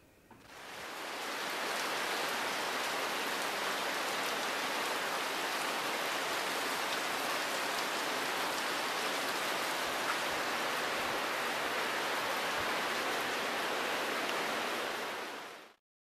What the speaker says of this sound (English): So get ready for some noise because it was a bit windy and rainy.